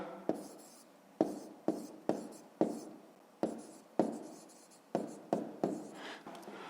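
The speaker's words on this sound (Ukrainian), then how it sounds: "То записуємо." A pen writing on paper while working a fifth-grade math exercise: about a dozen short, scratchy strokes in an irregular rhythm, close and quiet, each stroke ending in a soft fading rasp.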